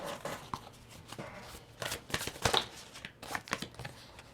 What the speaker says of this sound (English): I'm going to pull some oracle cards to finish the reading